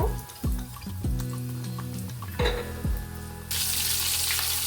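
Coated chicken pieces drop into hot oil with low knocks, then a continuous sizzle swells into a louder, brighter hiss near the end, close and with no talk.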